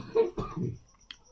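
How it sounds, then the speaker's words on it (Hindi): A man coughs during an online trigonometry class, a couple of short throaty bursts close to the microphone, followed by a faint click. "अरे खांसी काहे आ रही है इतनी।"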